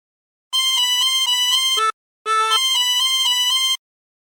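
A tune played solo on a chromatic harmonica: two clean, bright melodic phrases of quick repeated notes separated by a short pause, close and loud with no other sound.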